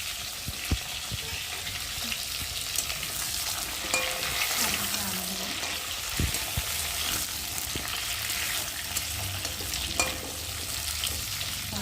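Potatoes fry in oil in a pan with a steady crackling sizzle, broken by occasional stirring clinks and scrapes.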